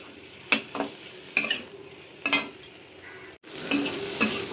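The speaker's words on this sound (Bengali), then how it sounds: "মশলার সাথে সবগুলো একসাথে ভালো করে মিশিয়ে কিছুক্ষণ ভাজা ভাজা করে নেব" Spice paste for a bata fish and potato curry is stirred and fried in a pan over a medium gas flame. Repeated scraping strokes cut through a steady sizzle, with no talking.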